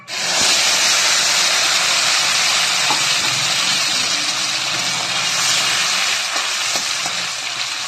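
A mixer grinder runs continuously and loudly, grinding small tomatoes and green chillies into a paste with a harsh, steady whirring roar throughout.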